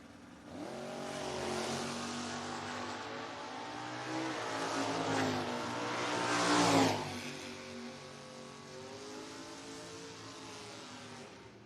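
A 1969 Camaro drag car at a footbrake drag racing event, its engine revving and swelling in pitch as it accelerates and draws closer, peaking loudly before receding, with track ambience behind it.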